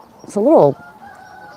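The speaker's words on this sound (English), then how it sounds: "You can maybe hear the roosters crowing." A single short rooster crow, fairly close and loud, rising then falling, followed by quiet background; a brief voice is heard just before. Dawn beside rice paddies in Gyeongju, South Korea.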